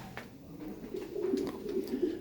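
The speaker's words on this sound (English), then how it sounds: "Well, pigeons." A brief stretch of gentle, throaty pigeon cooing, quiet and rolling, over faint background hiss, at Kenilworth Castle.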